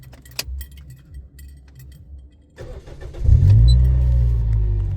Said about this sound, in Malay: Contoh kasih kereta start.